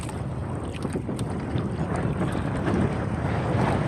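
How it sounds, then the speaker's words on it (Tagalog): Strong wind blows across the microphone while net fishing from a small boat after a typhoon, a steady loud roar of gusts and buffeting that runs unbroken throughout and is likely mixed with water lapping against the hull. "malakas ng hangin. Maraming hangin o."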